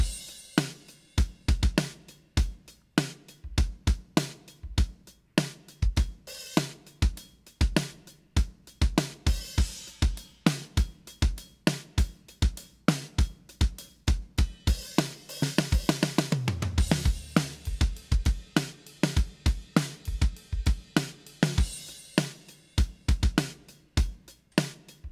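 A deep, low-tuned snare drum with wood hoops plays a groove in a drum-library demo. Punchy fat hits repeat steadily with kick and cymbals for about 25 seconds, including a busy fill midway, with no talking.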